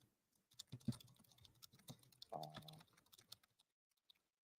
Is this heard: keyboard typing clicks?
yes